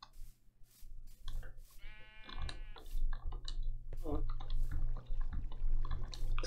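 A Minecraft sheep gives a single bleat in the game, a short wavering cry near the start, while someone talks over keyboard and mouse clicks and a steady low hum.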